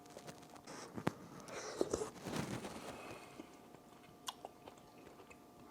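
Quiet close chewing and biting while tasting Southern style collard greens, soft wet crunches and mouth sounds with a few sharper clicks, faint and intermittent.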